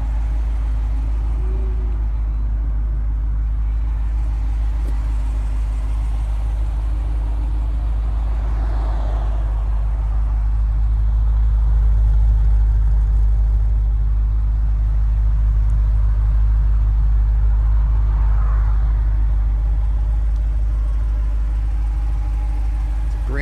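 A Jeep Grand Cherokee SRT with a naturally aspirated 6.4-liter engine idles steadily and loudly up close, with a deep, constant rumble that swells slightly midway, no talking over it.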